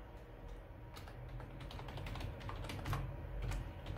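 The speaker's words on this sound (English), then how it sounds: "Type the username." Keys tapped on a computer keyboard while a username is entered, a quiet run of quick, irregular clicks over low background hum, without speech.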